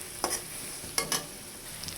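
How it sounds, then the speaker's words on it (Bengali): Onions frying in oil in a pan for a rohu fish bhuna, a soft, fairly quiet sizzle broken by a few brief stirring scrapes. "পেঁয়াজগুলো ভাজা হলে মাছগুলো দিয়ে দেবো"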